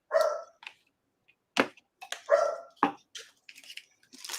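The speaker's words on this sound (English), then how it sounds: "she's walking the big hound dog" Big hound dog outdoors barking several times with short gaps, each a sharp distinct woof, fairly close and loud, with some faint scuffling noises between barks.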